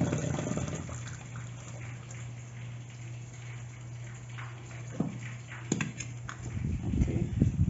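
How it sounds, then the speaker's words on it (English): Hot water from boiled potatoes strained off into a sink, a steady pouring gush with a low running hum, ending in brief splashes and clatter as the pot empties. "I'm gonna strain off the water."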